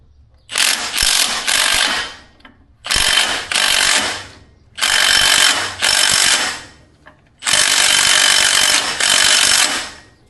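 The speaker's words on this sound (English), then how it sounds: "Now I'm gonna very gingerly tighten the nut with this impact wrench and see if it pulls on." Impact wrench tightening an M12 nut on an FJ60 axle or transfer case, firing in four loud, rattling bursts of about two seconds each with short pauses between, no talking.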